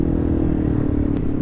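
A motorcycle engine runs loud and steady throughout, a broad low rumble with some clatter and a brief sharp burst near the end, consistent with revving for a wheelie on the way out of a repaved skate park.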